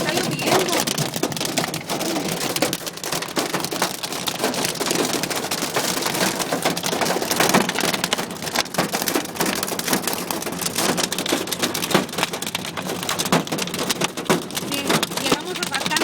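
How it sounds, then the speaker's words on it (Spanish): Dense, continuous pelting of a strong hailstorm on hard surfaces in Orange County, a steady crackling roar with sharp impacts throughout, loud and unbroken for the whole stretch. "Strong hailstorm."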